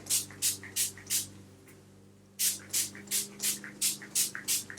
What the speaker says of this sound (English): I'm gonna spray it with my wig control.